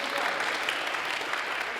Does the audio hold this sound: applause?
yes